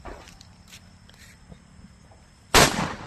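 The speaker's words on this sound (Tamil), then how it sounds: "இந்த வெடி லட்சுமி வெடி தான்." A Lakshmi firecracker goes off during Diwali with a single sharp, loud bang after quiet outdoor moments with faint footsteps and small sounds.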